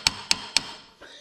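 A hammer strikes a New Holland hay rake part being repaired, giving three sharp, evenly spaced metallic taps close up, followed by a softer knock, with no talk.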